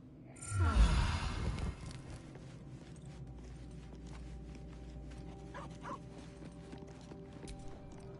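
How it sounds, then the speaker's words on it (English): A dog in Baldur's Gate 3 pants through a ball clenched in its mouth: a brief, louder huffing burst near the start, then softer breathy sounds under a quiet game ambience. "Dog pants through a ball held firmly in his mouth."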